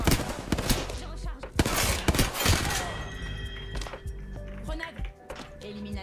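Rapid gunfire bursts from weapons such as the Flatline in the video game Apex Legends, loud and dense with sharp repeated cracks and thuds, followed by quieter clicks and tonal game effects.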